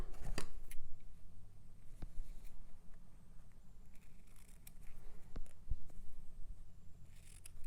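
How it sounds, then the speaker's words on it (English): Scissors trimming the torn edges of paper around a stamped image, giving a few scattered, quiet snips over soft handling noise. "Maybe I'll trim these a little bit."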